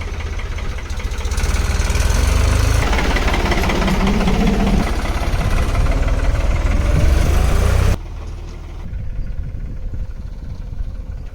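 A tractor engine idles close by in flood-hit, muddy village ground, rumbling loud and steady at a fixed pitch. It turns somewhat quieter near the end.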